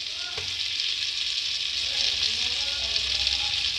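Ginger and garlic sizzle in butter in a pan over medium heat, a steady close crackling fry that continues throughout with a faint clink near the start.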